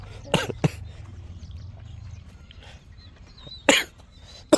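Two quick coughs close by, then a quiet pause with faint background sounds, followed by another harsh cough and a final short one.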